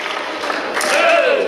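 Crowd noise at a wrestling match rises into a swell of cheering and applause, fairly loud and building toward the end.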